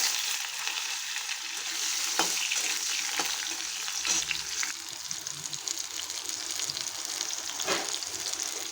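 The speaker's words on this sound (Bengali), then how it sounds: "আলুটাকে আমি আগে লাল করে ভেজে নেব" Potatoes fry in hot oil in a pan over cumin seeds, a steady close crackling sizzle with a few sharper scrapes of stirring, no voices.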